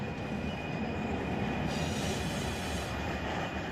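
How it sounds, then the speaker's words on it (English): Train braking in the Run 8 Train Simulator video game, a steady loud rumble of rolling wheels with a thin continuous high squeal of the wheels running throughout, no voices. "Let's hit some brakes now."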